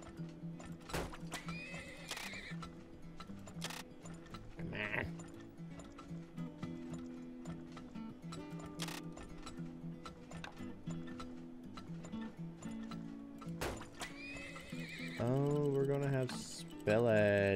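Horses in the Turmoil video game, with repeated clip-clop hoofbeats throughout and loud whinnies near the start and end, set over a steady game music bed.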